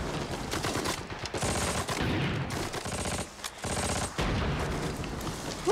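Battlefield gunfire from a Band of Brothers war episode, dense, loud bursts of machine-gun and rifle shots crackling almost without pause, with brief lulls between volleys.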